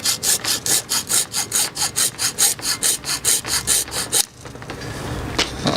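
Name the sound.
hacksaw cutting through aluminium sail track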